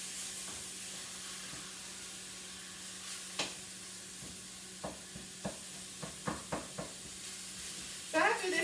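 Bolognese meat sauce sizzles in a pan with a steady hiss, with scattered spoon scrapes and clicks as it is stirred, close and moderately loud with no talking.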